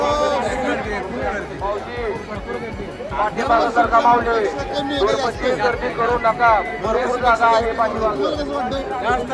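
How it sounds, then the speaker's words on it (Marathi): Dense crowd of pilgrims at Pandharpur on Ashadhi Ekadashi, a constant close hubbub of many overlapping voices and chatter, with a nearby person speaking over it. "खूप गर्दी आहे"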